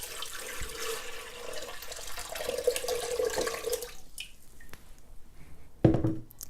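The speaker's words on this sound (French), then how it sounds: "Je vais y ajouter mon litre d'eau" Water runs steadily into a mixing bowl, a litre poured in a continuous gurgling stream that stops around the four-second mark, followed by a few small clinks and a brief thud near the end.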